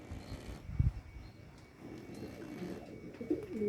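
A sick pigeon making raspy, wheezy breathing sounds like soft snoring, with low cooing close by against a noisy background.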